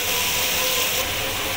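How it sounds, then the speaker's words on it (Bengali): Prawns frying in hot oil in a kadai, a steady, dense sizzling hiss that carries loud and unbroken from start to finish with no talk. "চিংড়ি মাছগুলোকে ভালো করে ভেজে নেব।"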